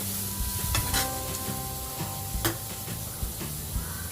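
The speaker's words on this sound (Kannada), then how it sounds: "ಕ್ಯಾರೆಟ್ ಹಾಕಿ ಫ್ರೈ ಮಾಡ್ತಾಯಿದ್ದೀನಿ" Carrots frying in a pan as a vegetable fry is made, a steady close sizzle with scraping stirs and clinks from a spatula, no talking.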